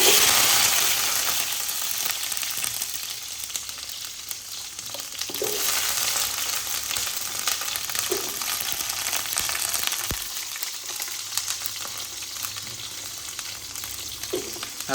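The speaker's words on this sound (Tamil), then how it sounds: "நல்லா எண்ணெய் சூடாகணுன்னே வெந்தயம் போட்டுக்கணும். வெந்தயம் பொரிஞ்ச உடனே சின்ன வெங்காயம்" Fenugreek seeds and small shallots frying in hot oil for a village-style Tamil fish curry, giving a steady close sizzle and crackle throughout with faint stirring clicks and no voices.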